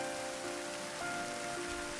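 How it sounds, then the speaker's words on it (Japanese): Steady, even rain falls in the Riparian Corridor area of the video game Final Fantasy XIII, a dense continuous hiss with faint sustained tones beneath it. "しばらくは雨の時間か。"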